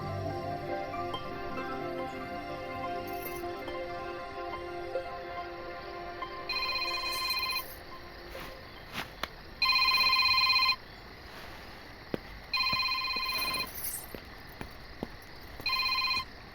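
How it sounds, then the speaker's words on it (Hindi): A telephone rings in repeated electronic bursts, about four separated trills of equal loudness over a quieter musical background with scattered clicks. "पता नहीं, कल रात से फोन करी जा रहा है।"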